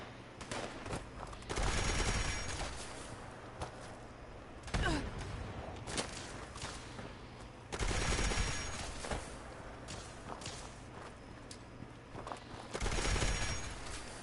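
Rifle gunfire in Fallout 76, played on PS5: several sustained bursts of rapid shots, each lasting about a second or two, separated by quieter gaps and a few single cracks. The shots are fairly loud, with no talking.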